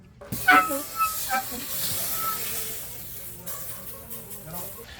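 Fish sizzling on a hot serving plate at a Filipino beach lounge on Bantayan Island, a steady broadband hiss that rises after a few sharp crackles, with people's exclamations heard in the background.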